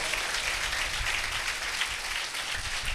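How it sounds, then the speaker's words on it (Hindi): A church congregation applauding during a sermon, a brief, steady wash of clapping from a crowd heard at moderate distance for a few seconds. "जोरदार तालियां बजा दे खुदा के वादों के लिए"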